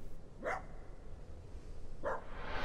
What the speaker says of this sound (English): far off in the distance,